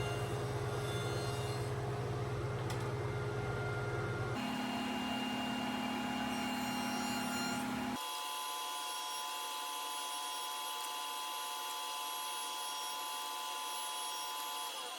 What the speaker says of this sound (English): Back at the joiner, we'll square our edge 90 degrees to the face.